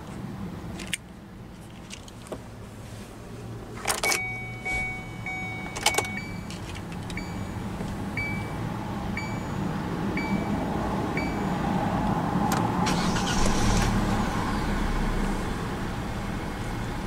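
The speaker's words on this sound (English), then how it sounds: "let's go ahead and start the engine." A 2018 Kia Soul starts up from inside the cabin: a few clicks and key sounds, a short crank, then the engine settles into a steady, rising idle hum that carries on to the end.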